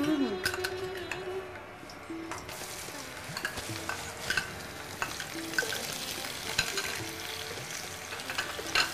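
Garlic frying in a pan, a soft, steady sizzle with frequent utensil scrapes and light knocks, fairly quiet and close.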